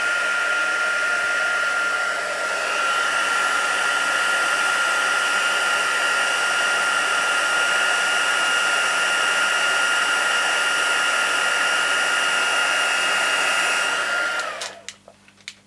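A heat tool for embossing blows with a steady, loud whirring hiss for about fourteen seconds, running alone at close range before switching off and winding down with a few faint clicks at the end.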